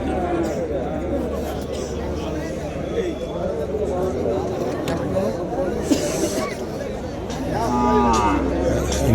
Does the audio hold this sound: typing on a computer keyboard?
no